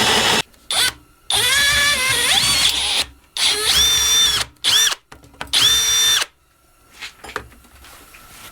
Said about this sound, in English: so we got our holes drilled through there